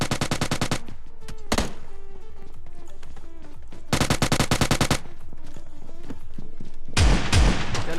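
Gunfire in the mobile battle royale game PUBG Lite, with loud rapid automatic bursts at the start, the middle and the end and quieter game ambience between them.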